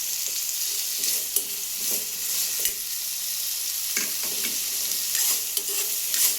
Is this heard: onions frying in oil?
yes